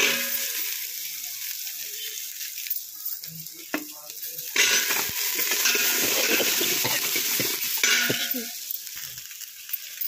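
Onions drop into hot oil tempered with mustard seeds, cumin, dried red chilies, green chilies and garlic, producing a loud sizzling hiss that swells when added, with spatula stirring and pan scrapes throughout.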